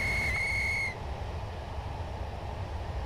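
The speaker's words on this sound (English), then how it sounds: "Stop using the bloody whistles!" Steam locomotive whistle on a heritage railway, a single bright sustained blast that cuts off after under a second, leaving low rumbling background noise.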